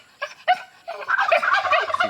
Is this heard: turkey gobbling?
yes